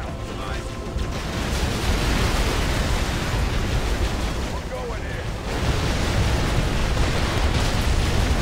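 A rocket explosion in the Halo Wars skirmish game on Xbox One, a loud broadband roar and rumble that swells and sustains amid continuous battle noise, with voices talking over it.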